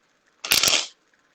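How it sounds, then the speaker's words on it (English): A deck of tarot cards gets one quick, crisp shuffle up close, a brief papery riffle that starts and ends in near silence. "Let's do a couple more shuffles."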